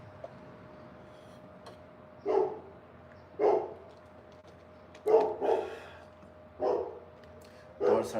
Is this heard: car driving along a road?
no